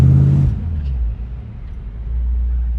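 A 1973 Chevelle Deluxe with a Turbo 350 three-speed automatic drives along, its engine a deep, close rumble that dips briefly early on, then settles into a steady low drone.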